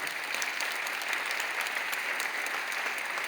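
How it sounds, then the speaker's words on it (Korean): Applause from a church congregation during a Sunday school teacher appointment and awards ceremony, a steady, moderately distant wash of many hands clapping with no break. "교우들에게 인사하실 때 큰 박수로 격려해 주시길 바랍니다"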